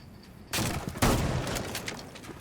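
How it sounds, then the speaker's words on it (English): Shotgun fire in an online video game match, heard as two sharp, loud blasts about half a second apart, with a noisy rattling tail and smaller clatter after them. "He shotguns it, shotguns right where that person is."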